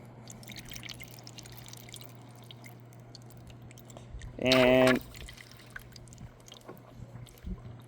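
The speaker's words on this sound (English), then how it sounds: "So here goes a constant pour of water." Water poured in a steady stream down a car sunroof drain tube gurgles and splashes for about half a second, fairly loud against a quiet background with a low steady hum.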